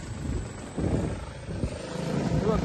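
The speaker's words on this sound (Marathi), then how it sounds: "आवाज बघ गाडीचा." A vehicle engine roars loudly in the middle of the night, a steady low rumble with surging swells that builds toward the end, heard up close with no talk over it.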